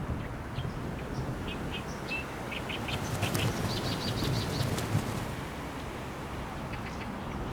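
Birds flap their wings on a nesting island in a city pond, a steady fluttering rush with a few faint chirps scattered through it, heard alone without any voices.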